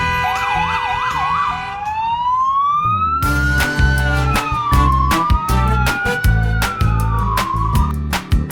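A police car siren wails loudly and continuously during a chase after a driver failed to stop for a school bus, its tone sweeping up and down and shifting pattern partway through over a steady low rumble.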